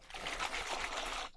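Tap water trickles steadily while vegetables are rinsed by hand for a bamboo-shoot curry, a close, continuous watery splash lasting over a second before cutting off.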